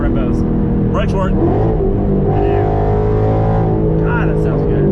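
A 2014 Ford Mustang GT Track Pack (S197) V8 accelerating on a road, heard from inside as a loud steady engine drone that rises in pitch through the run, with people talking over it.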